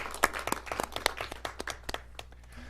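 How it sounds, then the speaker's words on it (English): Applause at a North Las Vegas city council State of the City event honoring volunteers, a scattered round of hand claps from a modest crowd, near and fairly clear, fading out over a few seconds. "they deserve really a clap for all they did"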